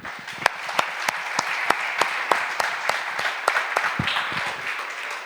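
A church congregation applauds, with many hands clapping in a steady rhythmic beat over a bed of broader applause, loud and close for several seconds before ending abruptly.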